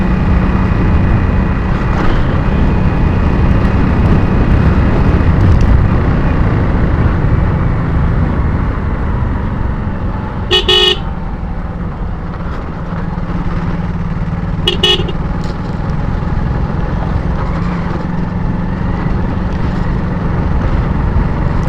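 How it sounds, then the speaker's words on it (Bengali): Traffic on a distant bypass road in Gazipur, heard as a steady broadband rumble of passing vehicles with two short car horn blasts standing out above it, no talk. "ওই যে দূরে বাইপাস দিয়া গাড়ি ঘোড়া চলাচল করতেছে।"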